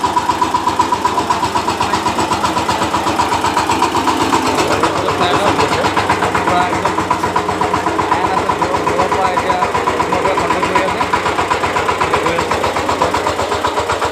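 A small remote-controlled tractor engine runs steadily outdoors in a field, a continuous mid-pitched rattling drone with a fast regular pulse, loud and close, with people talking over it throughout.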